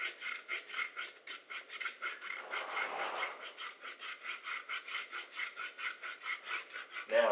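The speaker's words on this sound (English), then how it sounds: "I will begin to drop the top side of the rasp. So I'll drop the tool towards the sole as I round the hoof." A RidersRasp hoof rasp files a horse hoof in steady rhythmic back-and-forth strokes, each a close, dry rasping scrape, repeating evenly throughout with no talk.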